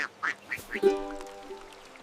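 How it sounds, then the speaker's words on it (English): A quick series of short nasal quacks, then a longer tonal call that fades, heard faintly. "one little duck says quack-ack"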